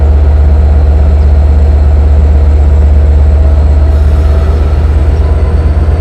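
Long Island Rail Road train 6095 at Speonk, a loud, steady low rumble of the engine and rolling cars passing close by for the whole stretch, with no talk over it.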